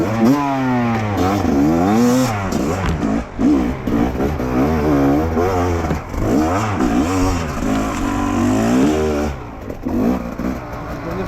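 Fantic XE 300 dirt bike ridden off-road on hard terrain, its engine loud and continuous throughout, revving and pitching up and down as the throttle opens and closes.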